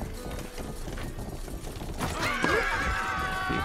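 A horse in a video game gives a loud, clear whinny over hoofbeats and game background noise, the neigh rising and falling across the latter part.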